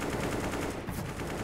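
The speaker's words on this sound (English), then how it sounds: "going to get the shot back with the AK" AK rifle fire in CS:GO during a professional match, a rapid loud burst of automatic gunshots filling the short moment.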